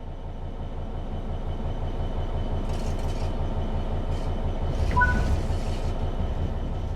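A train coasts on level track in Train Sim World 5, with a steady rumbling rolling drone of wheels and carriage, faint clanks and a brief squeal, no voices.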